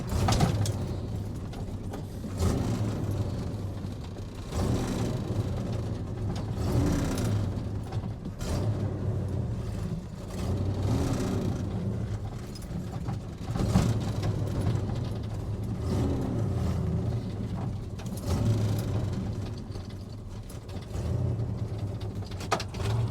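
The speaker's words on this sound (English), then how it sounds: "Boy, this car sounds good." A Chevrolet El Camino engine idles steadily throughout, a continuous low mechanical rumble with some ticking and rattling, fairly close and without talk.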